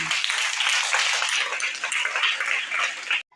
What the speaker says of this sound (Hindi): कृपया ताली बजाइए उनके लिए।